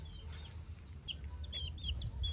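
Backyard village chickens and chicks cluck and peep quietly nearby, soft high chirps scattered over a low steady rumble, no one talking.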